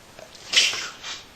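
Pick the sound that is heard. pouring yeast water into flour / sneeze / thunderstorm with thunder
sneeze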